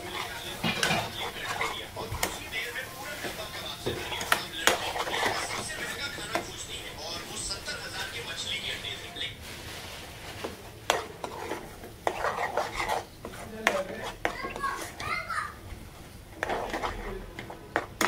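Spices sautéed in a pan with a little water while cooking, with repeated scraping and clinking of a stirring utensil and a light sizzle, under intermittent talking.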